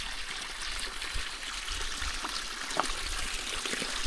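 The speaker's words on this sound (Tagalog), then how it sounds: "Galing po sa bundok yung ano, yung tubig. Diyan bukal. Tapos tumutulo dito yung tubig." Mountain spring water trickles and drips steadily from a natural spring along a ride in Burdeos, a continuous close splashing stream with small irregular drips, heard alone without voices.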